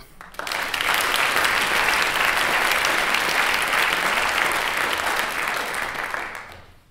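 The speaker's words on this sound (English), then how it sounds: "we should applaud him anyway" Applause rises quickly from an audience at a translation prize ceremony, holding as a dense, even clatter of many hands for about six seconds before tapering off at the end.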